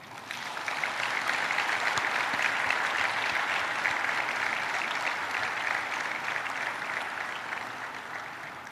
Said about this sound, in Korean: 깊은 존경과 감사를 표하는 힘찬 박수를 부탁드립니다